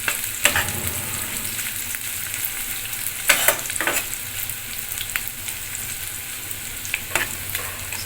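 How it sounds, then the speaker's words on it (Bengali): Chopped onions frying in a pan for a Bengali fish-head muri ghonto, a steady close sizzle and crackle with a few scrapes of stirring, no voices. "2-4 মিনিট ভাজতে হবে পেঁয়াজটাকে।"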